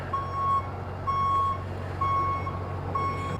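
A truck backing up at a home building site sounds its back-up alarm, steady single beeps repeating about once a second over a low engine rumble, moderately close with no talk.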